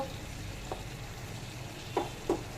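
Spice masala with chilli, cumin and turmeric powders sautés in a pan for a jackfruit and prawn dish, a soft steady sizzle with three brief scraping stirs of a spoon.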